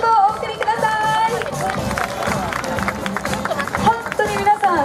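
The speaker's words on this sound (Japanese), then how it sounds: "エントリーされた皆さんに今一度大きな拍手をお送りください。" Festival crowd applauding after bottle-dance performances at an Itoman hometown festival in Okinawa, a dense wash of clapping and cheering with crowd hubbub, steady and fairly loud throughout.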